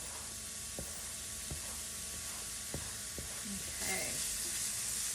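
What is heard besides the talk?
mushrooms sizzling in olive oil in a heated pan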